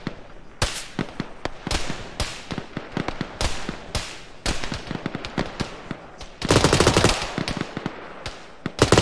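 Rapid bursts of game gunfire ring out during a helicopter assault, sharp repeated shots in clustered volleys with a loud sustained stretch near the end, with no talking over it.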